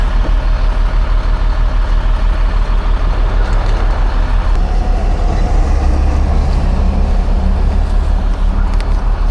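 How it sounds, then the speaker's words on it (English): A digger truck's engine runs continuously at a loud, close, steady rumble for the whole stretch, with faint mechanical clanks layered over the drone. "Let me hop up one more time on the digger truck, rack it all up, and then pull the legs up and kill the truck"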